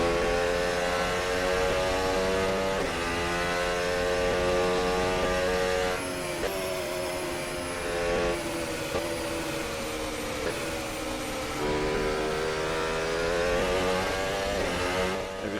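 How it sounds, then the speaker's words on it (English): A high-revving Mercedes W14 Formula 1 car engine in a racing video game whines continuously, pitch climbing and dropping through gear shifts, loud and steady with no talking. "Hope you guys enjoy the engine sounds for a bit as we put this move on."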